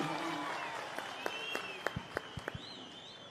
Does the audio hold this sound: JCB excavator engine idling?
no